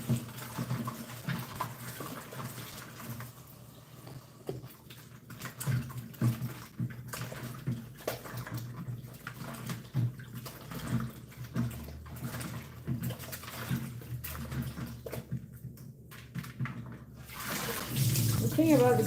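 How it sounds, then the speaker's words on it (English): Oyster mushrooms being washed in salted water under a running kitchen tap, a steady splashing hiss with bits of clatter, while a person talks over it. "I wash the mushrooms with salt and water."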